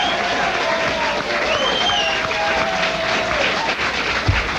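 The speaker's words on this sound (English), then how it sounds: "don't you think he deserves a lot of applause?" Studio audience applauding on a 1983 television talk show, a steady dense wash of clapping that fills the whole stretch at a constant loud level, with faint tonal traces running through it.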